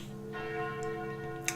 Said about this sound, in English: Those sound like the church's noontime bells.